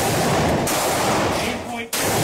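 Heavy .44 Magnum revolver fire from a video game, a loud, dense burst of shots filling the clip with a brief dip near the end, with talking mixed in.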